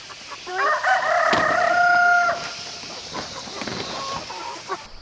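Rooster crowing among chickens on a pasture-raised poultry farm, one loud, clear crow in the first half, followed by softer clucks and rustling nearby.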